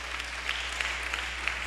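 Congregation clapping during a church sermon, a steady wash of many hands with a few sharper claps standing out, fairly distant and soft, with no talking over it.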